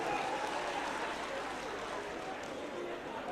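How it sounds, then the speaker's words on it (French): A large convention crowd applauds the party's eldest member, 83-year-old Elhadj Ibrahima Touré, at the RPG Arc-en-Ciel convention in Guinea, a steady, somewhat distant wash of clapping with crowd noise mixed in. "que je vous prie d'applaudir."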